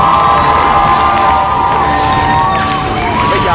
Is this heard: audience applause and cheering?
yes